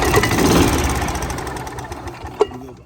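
A Club Car golf cart engine runs just after its carburetor has been adjusted. The close, loud, uneven chugging idle fades slightly, and a single sharp pop comes near the end.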